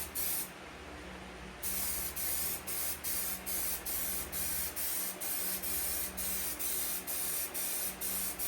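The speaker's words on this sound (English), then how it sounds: "as you spray the glue on, it makes the fabric a little wet" Spray glue being applied to fabric for covering car interior panels in a garage: an opening hiss followed by a steady run of short, even spray bursts at a regular rhythm, close and alone.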